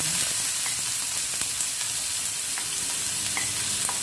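Chopped onion sizzles and fries in a pan for palak dal, with a steady close crackle and the occasional scrape of stirring.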